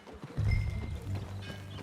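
Horse hooves clop while riding in the video game Red Dead Redemption 2. A close, rhythmic run of hoofbeats sounds with little else over it.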